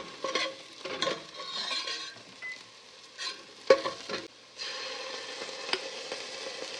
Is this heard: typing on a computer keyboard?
no